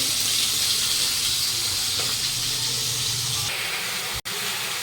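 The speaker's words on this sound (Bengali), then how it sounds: "এদিকে ভাত ফুটছে" Steady bubbling and hiss of rice boiling in a pot on the stove, continuous and fairly loud, with a brief dropout near the end.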